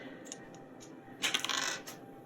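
A diamond-shaped eight-sided D8 die is rolled, giving a short burst of clattering taps and a brief skitter that settles within about a second, close up with no talking.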